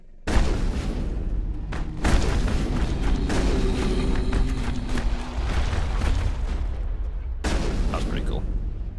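Heavy gunfire and booming blasts in the video game Mass Effect, loud bursts filling most of the stretch with a brief lull near two seconds and another pause near the end, mixed with game noise.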